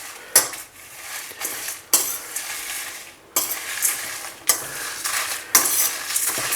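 Whole cumin, coriander seeds and black pepper are dry-roasted in a metal pan for achari masala, a spoon scraping and clattering against it in sharp, repeated strokes roughly every second over a faint sizzle.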